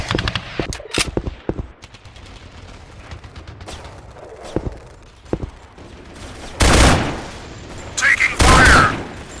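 Rapid machine-gun fire and loud bursts from the Special Soldier shooter game, with scattered single shots early, then sustained, dense fusillades near the end, plus game voice callouts mixed in.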